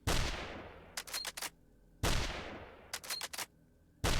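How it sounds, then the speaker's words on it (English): A Mosin Carbine bolt-action rifle fires in a video game with loud, booming single shots, each followed by a long decaying tail and a quick series of metallic bolt-cycling clicks, repeating at a slow, steady rate. "But this is the Mosin Carbine. Pretty slow fire rate. It is a bolt action"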